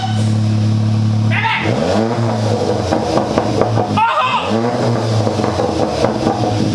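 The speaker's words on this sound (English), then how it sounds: "going to start the car for us just so we can hear it" VW Golf R with resonator delete and decat exhaust, revved sharply twice from a deep, loud idle, each rev rising fast and dropping back, close up with people talking around it.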